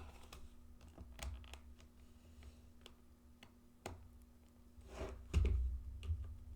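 Typing on a computer keyboard with a dying battery, irregular clicky keystrokes at close range, with a few louder knocks near the end and a steady low electrical hum underneath.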